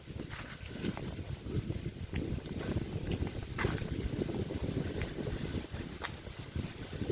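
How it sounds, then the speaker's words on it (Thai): Wind gusting through autumn leaves in Germany, a rough blustery rush with rustling bursts and buffeting against the microphone, steady and fairly close. "มาพามาดูใบไม้ร่วงกับเสียงลม"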